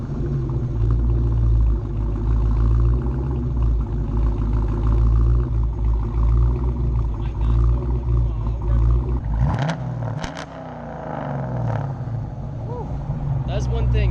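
A cammed 2013 Dodge Challenger R/T idles with a deep, loping rumble, then blips the throttle in a sharp rev that drops back to idle, loud and close.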